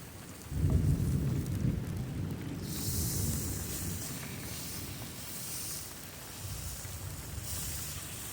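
A thunderstorm rolls in over a riverside camp in Bavaria: a deep rumble of thunder swells and fades while steady rain hisses and patters on surfaces throughout.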